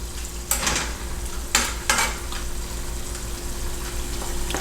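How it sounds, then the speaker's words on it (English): Garlic and saltfish (codfish) frying in a pan for Jamaican ackee and saltfish, a steady close sizzle with a few sharp scrapes or stirring clatters early on, no talking. "We're just gonna leave this for a couple of seconds because we want it to fry out a little bit."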